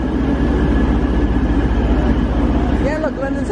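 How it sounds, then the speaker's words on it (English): Train standing at London St. Pancras station, a steady low rumble of idling engine and platform hum throughout, with faint voices in the background. "I think this might be my train."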